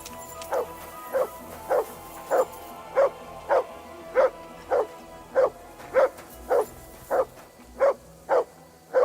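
A dog in Kingdom Come: Deliverance II, set in medieval Bohemia, barks on command in a steady series of about fourteen short, evenly spaced woofs, each loud and close, with quiet pauses between.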